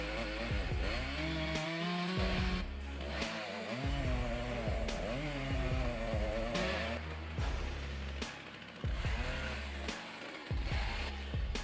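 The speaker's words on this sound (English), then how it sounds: "an experienced logger using a chainsaw to make the initial cut" An experienced logger's chainsaw makes the initial felling cut into a standing tree, engine loud and close, revving and bogging in repeated surges with short dips as the bar bites into the wood.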